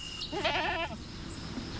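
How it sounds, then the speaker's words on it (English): A goat bleats once at a house, a wavering, quavering cry lasting under a second over a quiet background. "That's a goat."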